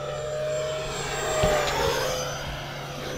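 E-flite Viper 70mm RC electric ducted-fan jet flying overhead, a steady high whine with a rising and falling pitch as it passes, loud and continuous with no talk.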